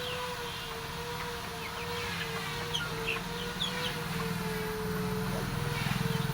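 Chickens kept in a small backyard flock give scattered soft clucks against a steady background hum, with some faint talk nearby.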